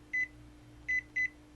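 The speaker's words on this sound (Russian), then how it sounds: "Все действует, как микроволновка пищит." A microwave oven, apparently salvaged from the trash, beeps three times: one short electronic tone, a pause, then two quick beeps close together, clear and close over a low steady hum.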